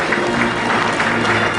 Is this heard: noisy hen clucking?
no